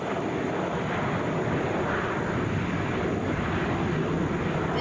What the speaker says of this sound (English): This is United Flight 225, headed to Denver, Boeing 737.